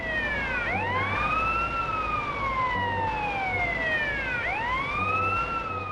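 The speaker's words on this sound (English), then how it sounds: "so now we have the sirens actually on, so the traffic should theoretically get out of our way" A police car siren in the video game GTA San Andreas wails continuously, its pitch sweeping up and down in repeating cycles over steady engine and traffic noise.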